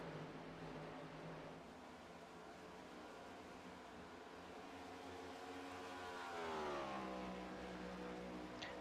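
Australian Stock Car Championship stock cars racing at Charlotte Motor Speedway, heard as a continuous engine roar from the field at moderate distance. One car's engine note climbs sharply as it passes near the end.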